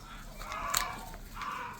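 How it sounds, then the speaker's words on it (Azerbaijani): Chickens in a yard at a house, scattered clucks and squawks at moderate distance, with one sharper call in the middle over a quiet outdoor background. "Bax, burada şey toyuqlar var."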